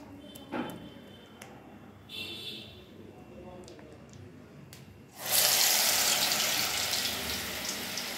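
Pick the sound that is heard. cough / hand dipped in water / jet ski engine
hand dipped in water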